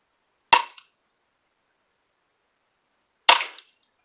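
A low-FPS airsoft gun is fired outdoors at night, two sharp snapping shots about three seconds apart, close and loud against near silence.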